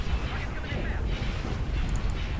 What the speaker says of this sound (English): Open fire on those laser cannons